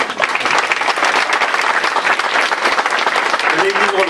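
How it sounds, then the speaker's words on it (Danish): Loud, dense applause from an audience at a gathering, close and continuous throughout, with a voice briefly heard near the end. "Vil I ikke være med til at give Hanne en klapsalve?"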